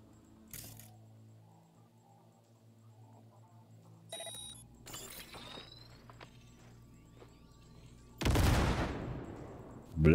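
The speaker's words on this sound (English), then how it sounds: "Now, detonate the grenade." A grenade detonates in Cyberpunk 2077, a loud burst with a decaying rumble near the end, preceded by quieter gunfire-like clicks, clatters and ambient game tones.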